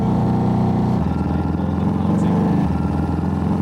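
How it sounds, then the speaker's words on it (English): A replica 1929 Morgan Aerosport three-wheeler kit car powered by a Honda CX500 motorbike engine runs steadily close by, a continuous low engine rumble with a slight shift in tone partway through. "is a kit car, a replica 1929 three-wheeler Morgan Aerosport, powered by a Honda CX500 motorbike engine"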